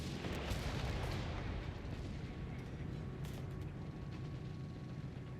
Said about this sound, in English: Matilda's opening fire.